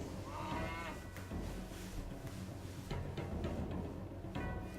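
Several cows in the video game Lords of the Realm II moo in low, drawn-out calls over a steady background hum, repeating at a moderate distance with no talking.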